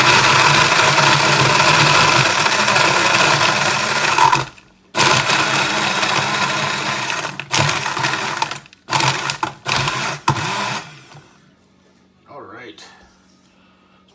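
A loud blender mixing an electric blue margarita whirs steadily for several seconds, stops briefly, then runs in short pulses before cutting off, with talk over the motor.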